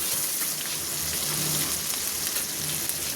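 Onion frying in a pan until it turns reddish-brown makes a loud, continuous crackling sizzle that stays close and even throughout.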